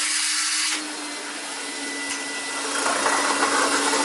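An older Hoover Constellation model 84 hover vacuum cleaner, floating on air, whirs loudly and steadily, its airy roar wavering slightly as the pitch and intensity shift, with a hum underneath.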